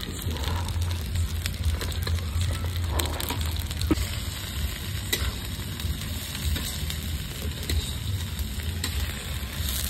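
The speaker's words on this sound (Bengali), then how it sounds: "এটা মটরশুঁটি ভেজে নেবো" Peas frying in a pan give a faint, continuous sizzle with light crackles and occasional stirring clicks, steady throughout with no talking.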